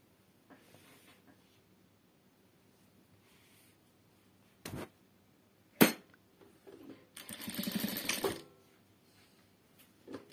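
A sewing machine stitches the edge of a fabric quilt cover in short runs, with a louder stretch of rapid stitching near the end between quiet pauses and a couple of sharp clicks.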